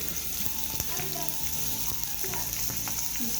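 Onions frying in a pan for puri masala, a steady, close, dense sizzle and crackle throughout, with faint stirring clinks and a soft tonal hum underneath.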